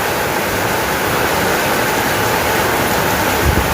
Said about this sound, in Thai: ทั้งลมทั้งฝนบัดนี้พี่น้องเลย